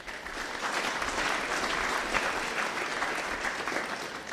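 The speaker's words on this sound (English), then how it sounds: "Guys, I would really like you guys to give them a round of applause." Audience at an AI summit applauding, a steady dense clapping that stays loud throughout.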